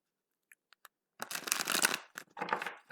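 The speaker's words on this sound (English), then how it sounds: "Give these cards a couple more quick shuffles." A few light card taps, then playing cards are riffled and shuffled twice in quick, crisp bursts, close by.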